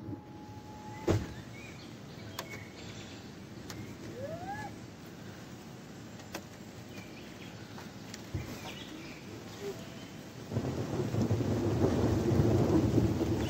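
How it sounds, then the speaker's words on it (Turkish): A low rumble of thunder rolls in the distance over a picnic area near caves amid light rain and scattered bird calls, with the rain growing heavier toward the end. "Şu anda duyabiliyor musunuz bilmiyorum ama gök gürültü sesi."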